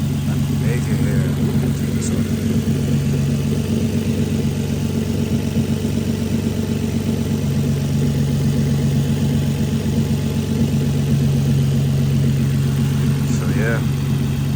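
A car engine idles steadily just after start-up, a continuous low, even hum with no revving, loud and close throughout.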